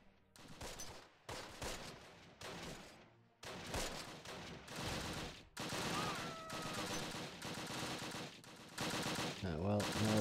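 Bursts of rifle and machine-gun fire in the World War II tactics game Close Combat during a battle at Nijmegen, rapid clattering volleys that keep coming close and loud, with some voices mixed in.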